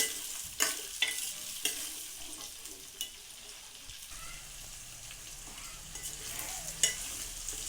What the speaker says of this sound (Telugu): అప్పుడప్పుడు వెల్లుల్లిపాయలు ఈ విధంగా కలుపుకుంటూ ఉండాలండి. గడితో తిప్పుకుంటూ ఉండాలి వెల్లుల్లిపాయలు బాగా వేగిదాకా.